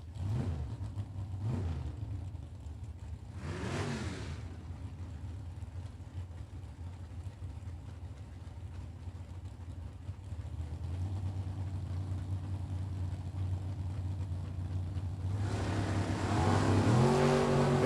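Drag race launch with a Camaro and a Beretta in a super pro event: a couple of short engine blips and a rev early on, a steady idle rumble, then a loud engine roar building at the finish.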